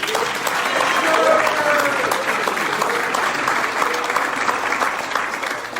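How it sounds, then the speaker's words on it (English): An audience gives a round of applause for Paul Taylor at a speaking event, a thick, continuous wash of clapping that swells early and tapers slightly near the end, with faint voices underneath. "Give him a round of applause."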